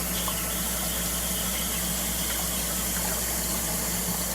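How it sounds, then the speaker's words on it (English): Tap water runs steadily into a sink while hands are washed with soap, a constant close hissing splash with a faint low hum beneath and no speech. "I have to get back here where the soap is because this is too dirty a hand to just rinse"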